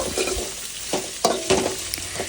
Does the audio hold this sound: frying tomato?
yes